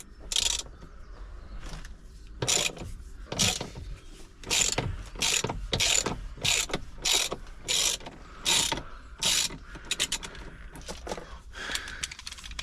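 Ratchet fitted with a new T50 bit working a bolt during airbag removal on a Citroen Xsara VTS. It gives a series of sharp, close clicking bursts in a rough rhythm, with brief pauses between strokes.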